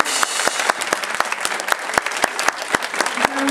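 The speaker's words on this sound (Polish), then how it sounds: "Państwo, proszę o brawa." A concert audience at a youth brass band's carnival anniversary concert claps in a dense, steady patter of sharp individual claps, moderately loud and close, with no talking over it.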